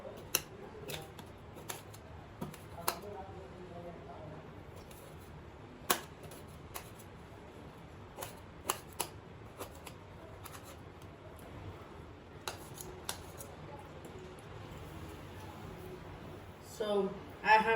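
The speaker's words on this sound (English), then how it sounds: "Now I'll cut them into small pieces." A knife taps and chops through ice apples on a cutting surface, sparse, irregular sharp clicks scattered across a quiet background, with a louder clatter of handling at the end.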